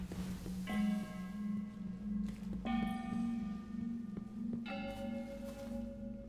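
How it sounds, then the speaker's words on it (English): Bells in Destiny: Rise of Iron ring out three times in steady succession, each a clear resonant strike with a long humming sustain that overlaps the next, over soft game ambience. "Alright, there's bells to ring."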